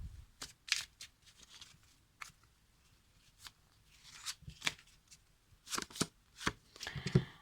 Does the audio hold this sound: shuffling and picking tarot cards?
yes